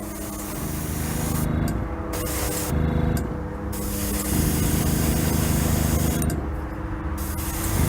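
Paint is sprayed as a tack coat onto a 1974 Hot Wheels Flying Customs Heavy Chevy model car in several close, loud hissing bursts separated by short pauses.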